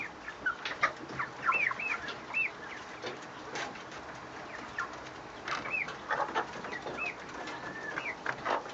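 Quail calling in short, repeated clucks and chirps with rising whistled notes, fairly close and clear, scattered in bursts across the stretch with brief quiet gaps between them.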